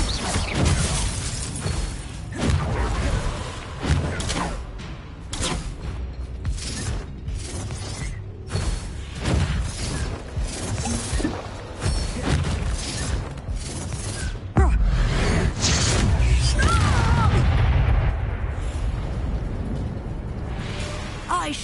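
A Bombarda blasting spell detonates in the Hogwarts Legacy video game, its explosions crashing amid continuous loud combat noise, with a heavier burst landing midway and rumbling on to the end.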